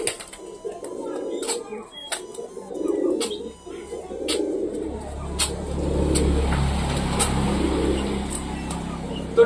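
Newly acquired pigeons coo in low repeated phrases close by, with sharp clicks and flutters, while a vehicle engine rumbles steadily in the background.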